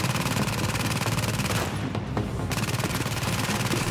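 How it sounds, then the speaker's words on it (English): Burst-fire weapon shooting in The Division during a solo mission, a dense, continuous volley of rapid gunshots lasting several seconds, loud and close over a steady background of combat noise. "So I'll try using my burst weapon"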